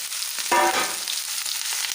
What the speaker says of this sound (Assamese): এতিয়া মই ইয়াতে ভেন্দিখিনি দি দিম। গোটেইখিনি ভেন্দি একেলগে দি দিছোঁ।